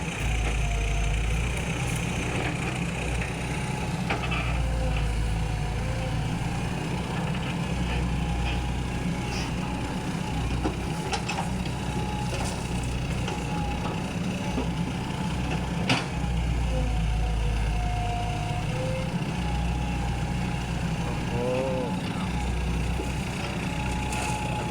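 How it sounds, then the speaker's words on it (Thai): An engine on a 14-ton machine runs at a steady idle. It gives a loud, continuous low rumble and hum with faint clanks and squeaks over it, and no one talks. "เครื่องยนต์"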